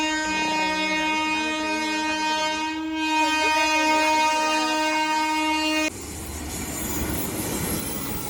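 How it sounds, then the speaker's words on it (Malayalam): A train passes close by near Coimbatore, its horn blaring in a long, steady, loud blast before the horn cuts off and the rumble and clatter of the carriages take over. "ഞങ്ങൾ നിങ്ങളെ ട്രെയിൻ കാണിച്ചു തന്നില്ലേ?"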